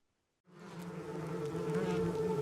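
After a short silence, a dense swarm of bees starts buzzing and keeps droning steadily, close and growing slightly louder.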